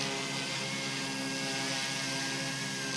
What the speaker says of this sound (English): this is probably the smoothest helicopter that Blade's ever created as well